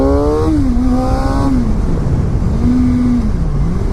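A 2016 Suzuki GSX-R600 supersport motorcycle engine revs up and down steadily over loud, continuous wind rush, heard close from the rider's position.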